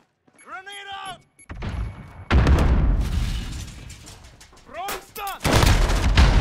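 In Call of Duty: Modern Warfare Beta, a thrown grenade explodes with a heavy boom amid bursts of close gunfire, loud and punchy, while a game voice calls out radio chatter between the blasts.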